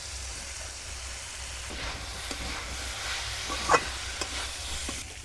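Samosa filling fries in a pan with grated ginger, a low steady sizzle under scraping stirs and one sharp clink of the utensil, with no talk.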